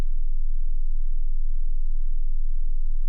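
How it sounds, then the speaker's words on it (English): A low 19 hertz tone hums as a steady, loud, unbroken drone with nothing else over it. "Humans can feel this sound at a frequency of 19 hertz"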